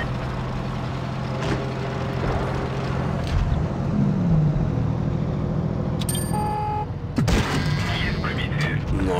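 Tank battle in World of Tanks Blitz with a T-34-85: engine rumble underneath, then a sharp cannon blast near the end followed by ringing debris, with voices talking over the action.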